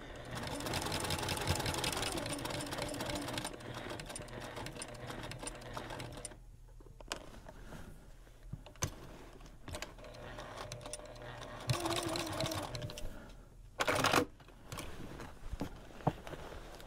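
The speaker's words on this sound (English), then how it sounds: "And then sew it on with a standard 1/4-inch seam allowance." A sewing machine stitches binding onto a quilt with a standard quarter-inch seam, humming in steady runs that pause and restart, with soft handling clicks between bursts.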